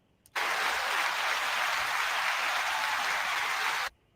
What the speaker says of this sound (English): Everyone needs applause, brother.